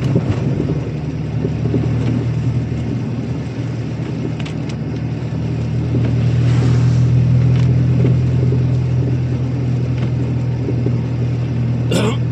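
A driving-school car on a wet rural village road in Belarus after a thunderstorm gives off a continuous low rumble that swells slightly midway, close and fairly loud, with no one speaking.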